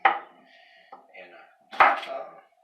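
Potatoes are chopped into little pieces on a board, with a few sharp knife strikes separated by pauses and faint kitchen clatter.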